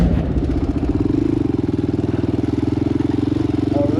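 A 2014 Honda TRX 400EX ATV engine idling nearby, a steady, rapid thumping putter with an even pulse running through the whole stretch and no revving.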